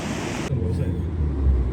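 Rushing floodwater after a cloudburst in Kullu-Manali surges with a loud, broad roar, first bright and hissy, then deepening into a heavy low rumble as the flow continues.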